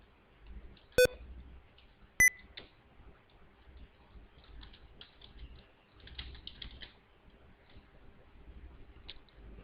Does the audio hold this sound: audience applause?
no